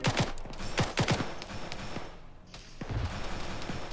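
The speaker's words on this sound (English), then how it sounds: "Hitting it with a GL round." Several booming shots and a heavy launch from a grenade launcher in the video game Arma 3 crack out in quick bursts, followed by rumbling aftermath and another loud report near the end.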